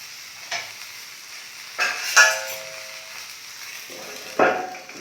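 Stuffed brinjal curry being stirred in a pan, with soft sizzling under a few scraping clinks of the spoon against the metal, close and fairly quiet.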